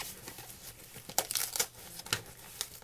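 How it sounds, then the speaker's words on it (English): A blade cutting through a packaging box, with short crinkling and tearing bursts of cardboard and tape, close and fairly quiet. "I gotta cut through this."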